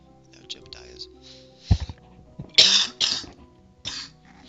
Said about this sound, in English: I had a little coughing fit there